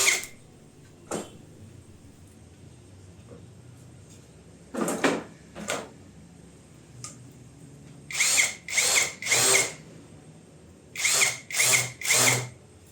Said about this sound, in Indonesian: Ini bagian bawahnya saya akan persing agar ketika kita sekrup bagian bawahnya itu datar ya, tidak menonjol.